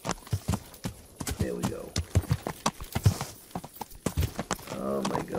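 Horse hooves clip-clop in the video game Kingdom Come Deliverance, a steady run of close, rhythmic thuds heard under frequent talking.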